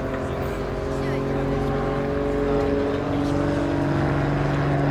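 Grob Tutor propeller trainer flying aerobatics at an air display in Eastbourne, a steady droning engine hum with tonal bands that swells slightly, heard continuously at a moderate distance.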